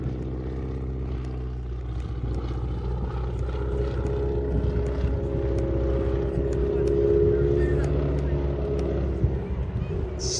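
Aircraft flying a display at the Sywell airshow, a steady droning propeller engine hum that swells slightly midway, heard at a distance under faint background noise.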